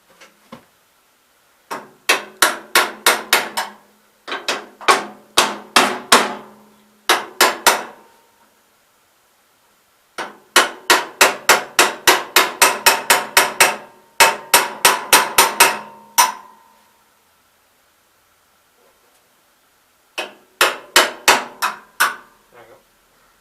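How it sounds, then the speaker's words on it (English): Bursts of sharp metallic hammer taps in quick rhythmic runs, close and loud, separated by short silent pauses, as a hammer taps a pin into a 1967 424 front drive adapter. "I actually need a hammer to tap this in."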